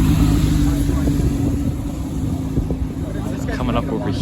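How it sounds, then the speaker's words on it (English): A Porsche drives past at a cars-and-coffee meet, its engine a steady loud drone that holds throughout without a sharp peak, with people chatting in the background. "I'm waiting for the Porsche to pass"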